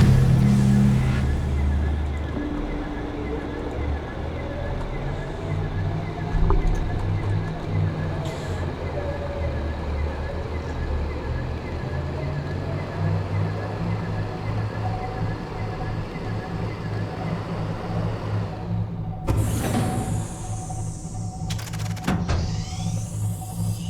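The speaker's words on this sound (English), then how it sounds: "Engine powering up." A submarine engine powers up in the Subnautica game, a loud continuous mechanical rumble and hum with faint rising whine, running steadily throughout before sharp bright electronic sweeps near the end; a voice speaks over it.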